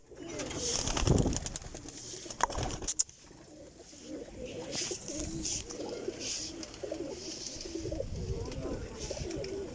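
Pigeons cooing on a rooftop loft, soft low coos repeating under ongoing background noise, with a couple of sharp knocks early on and people talking nearby.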